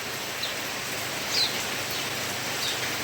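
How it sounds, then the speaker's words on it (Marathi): Monsoon rain falls in a soft, steady broadband hiss that stays even and fairly quiet throughout, with a few faint bird chirps above it and no talking. "आता पाऊस चालूच आहे"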